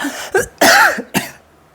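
Several sharp coughs in quick succession, close and fairly loud, with short gaps between them and then quiet.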